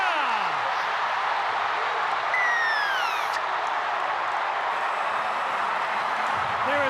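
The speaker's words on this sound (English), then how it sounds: "There is good reason that this red team is up on their feet and giving loud applause" A crowd at a rugby league match between New Zealand and Tonga applauds and cheers in a steady roar filling the stadium, while a commentator's voice and whistle-like tones cut across it.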